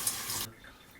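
Tap water gushes briefly while something is rinsed off during cupcake baking, a steady hiss that cuts off abruptly about halfway through.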